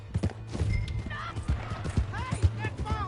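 A horse in Red Dead Redemption 2, stolen and ridden off, its hooves clip-clopping in a quick, uneven gallop with a whinny, under raised voices.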